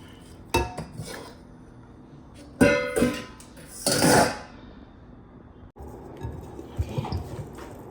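Dry ingredients with nutmeg and cinnamon are stirred together in a bowl, giving a few sharp clinks and scrapes of utensil against the bowl, with a louder scraping burst midway, close by and without talk.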